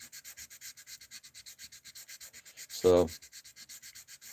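Steady back-and-forth sanding strokes in a quick even rhythm, repeating close by throughout, briefly interrupted by a single short spoken word.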